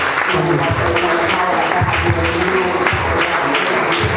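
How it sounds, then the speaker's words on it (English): Sustained clapping from a crowd, steady and fairly loud throughout, with no break. "Ladies and gentlemen, round of applause for Iran and Somalia."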